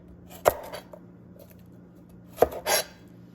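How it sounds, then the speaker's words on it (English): A knife trims both ends of a garlic clove on a cutting board, giving two sharp chopping taps about two seconds apart, the second followed by a brief scraping sound. "We're gonna trim both ends of the garlic."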